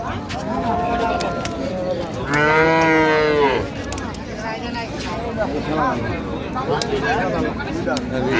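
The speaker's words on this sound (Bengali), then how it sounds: "দেখছিলাম এখানে গাভী বাছুর বেশ সুন্দর কোয়ালিটির" Dairy cows and calves low and moo at a busy village cattle market in Dinajpur, one long loud moo standing out midway among repeated nearer and farther calls, with people talking and bargaining throughout.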